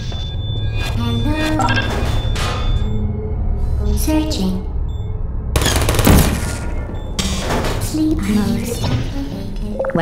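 Rapid turret gunfire bursts in the Portal video game, loud and close, mixed with clinking impacts and a robotic turret voice speaking between the volleys.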